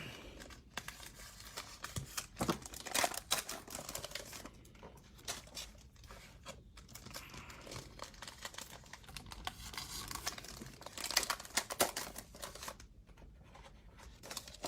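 A knife saws and tears through trading card blaster box packaging, producing scratchy crinkling and ripping bursts that run steadily throughout, close up, with no talking.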